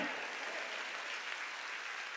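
A congregation at a Korean church Thanksgiving Sunday service claps together in a brief, even burst of applause, soft and somewhat distant, with no voices standing out.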